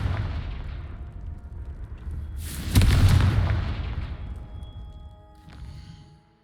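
A Confringo fire spell explodes in the Hogwarts Legacy video game, a loud booming burst that swells and rolls off over a couple of seconds amid ongoing game noise, with a smaller thump afterward.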